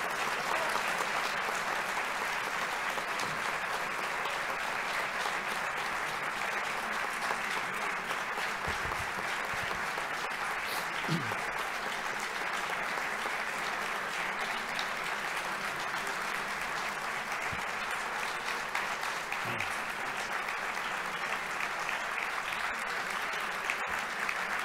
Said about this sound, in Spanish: Me honran sus aplausos.